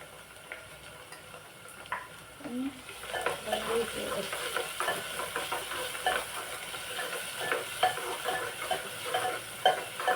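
Curry leaves and ginger-garlic paste hit hot oil in a pan for spicy dal fry, breaking into a steady close sizzle with stirring scrapes that grows louder and fuller as it goes.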